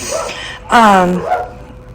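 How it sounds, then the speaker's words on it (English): Dogs shut in a kennel bark at newcomers, a single loud harmonic bark or yelp standing out against background room noise and faint voices. "they're locked up in their kennel, so they're just barking"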